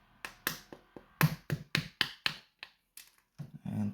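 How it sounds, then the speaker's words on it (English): Sharp metallic taps knock out a pin from a Zeiss Ikon Verso lock, about a dozen close, bright strikes in an uneven rhythm with brief pauses, ending in a softer scrape. "I have to knock out this pin here"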